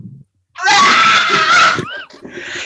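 A voice imitates someone screaming while throwing up: a loud, strained, rising scream held for over a second, then a gulping break and a rough retching tail, close and unaccompanied.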